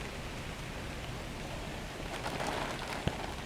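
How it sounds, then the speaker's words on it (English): Light rain falls steadily outdoors at the start of a thunderstorm, a faint, even patter with a few scattered drops and one sharp tap near the end. "it's already raining"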